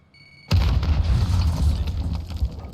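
A grenade detonates in a video game, a sudden loud boom after a short quiet lead-in, followed by a sustained rumbling, crackling tail that carries on to the end.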